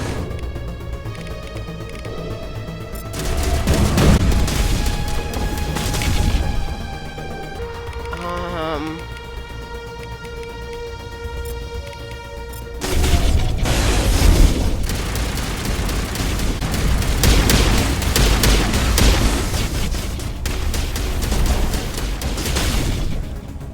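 Gunfire and booming blasts in the sci-fi shooter game Kaliope Shepard, dense and continuous over layered music, with loud bursts around the start and again in the second half.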